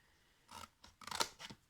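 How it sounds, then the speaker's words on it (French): Scissors snip through a piece of cardboard by hand, a few short crisp cuts close by, each a brief rasping crunch with small pauses between. "vous allez découper un morceau de carton"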